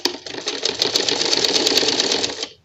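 Sewing machine running a steady stitching seam on trouser fabric, a fast continuous mechanical clatter held at close range for the whole stretch before stopping abruptly.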